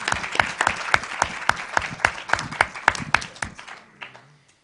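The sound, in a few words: audience applause at a debate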